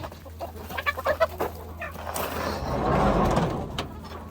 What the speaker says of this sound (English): this guy right here is our big rooster